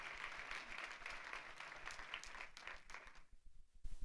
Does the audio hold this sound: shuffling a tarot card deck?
no